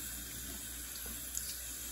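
Tap water running steadily into a sink while a salon mannequin doll's hair is rinsed, an even hiss of flow at moderate level with no talking.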